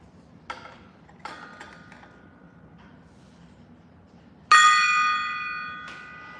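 A gong is struck once with a sharp attack, then rings out with a bright shimmering sustain that slowly decays. Softer ticking taps come before it in an otherwise quiet room.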